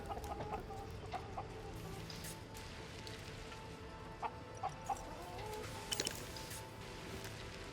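Chickens on a ranch in the survival game Surviving the Aftermath give faint, scattered clucks over a steady rain-like outdoor ambience, with no talking.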